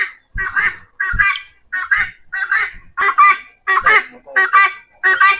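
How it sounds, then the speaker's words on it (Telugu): Assorted breeds of chickens and other fowl call loudly and close by, giving about eight sharp, honking bursts in a quick, regular series with brief gaps between them. "రకరకాల కోళ్ళు ఉన్నాయి."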